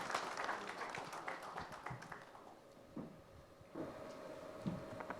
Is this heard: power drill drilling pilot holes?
no